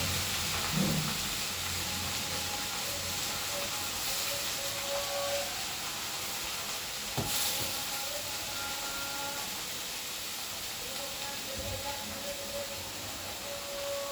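Red amaranth greens hitting hot tempered oil in a pan, giving a steady, fairly quiet hiss and sizzle that carries on evenly throughout, with one sharp clatter partway through.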